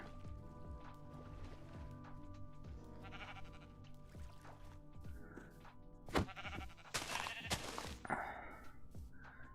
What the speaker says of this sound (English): We got some sheep over here.